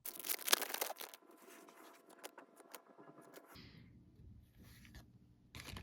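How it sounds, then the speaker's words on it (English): Hockey trading card pack torn open by hand, a burst of crinkly tearing up close at the start, then softer rustling and handling of cards with low background rumble. "cut to us opening the pack"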